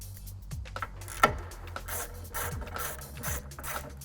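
A 10mm bolt on a VW T4 headlight is undone with a ratchet, giving faint clicking and scraping metal sounds in short irregular bursts, close and quiet.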